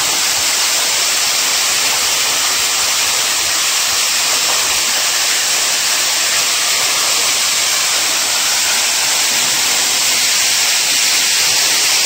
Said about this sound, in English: Made it to waterfall number 1.